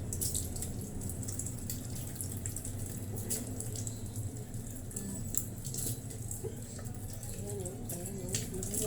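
Tap water runs steadily from a faucet into a sink while dishes are being washed, a constant close splashing stream with faint clinks and drips.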